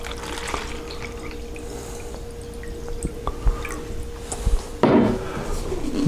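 Water, three cups of it, is poured into a container for a copper-cleaning mixture, heard as scattered close drips and trickles, then a louder, fuller splash of pouring near the end.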